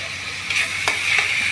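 Ground spices, including coriander and cumin powder with a paste, frying in a pan, a bright steady hiss with a couple of brief scraping stirs, close by and without talk.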